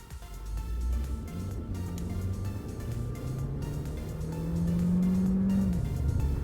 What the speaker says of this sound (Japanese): 今からパドルシフトを使って高回転域までフルスロットルで